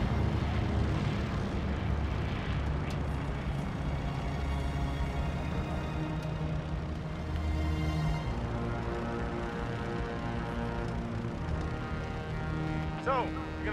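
A propeller airplane engine drones steadily in Call of Duty: Vanguard, a constant low throbbing hum heard from inside the aircraft, with voices talking over it throughout.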